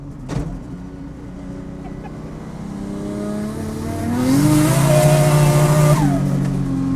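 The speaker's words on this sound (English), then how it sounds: "Yeah, them RB20 noises" A Ford AU Falcon with a swapped RB20 engine revs up and accelerates, its loud engine note climbing and sustaining for a couple of seconds before easing off, following a brief knock and a low idle.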